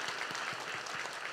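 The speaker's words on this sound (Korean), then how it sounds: "자, 박수로 한번 격려합시다." A church congregation at a Sunday morning service at Yangjeong Church claps in encouragement for a short-term mission team being sent to Thailand, a brief patter of soft, distant applause.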